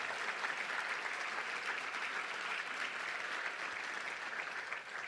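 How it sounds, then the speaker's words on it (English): Audience applause at a Little Rock Touchdown Club luncheon, a steady, even wash of many hands clapping throughout, moderately distant and without talk. "Let's give all of our sponsors a big round of applause for sponsoring the Touchdown Club."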